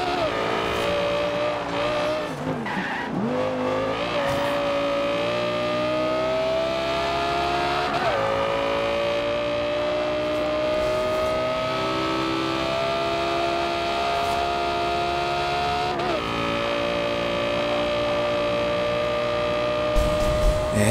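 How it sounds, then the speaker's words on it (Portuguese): An Audi R8 Coupe engine drones steadily in Forza Horizon 2, pitch rising and dipping with gear shifts, with occasional tire squeal and no talking. "vamos escutar o som do carro até o final da corrida"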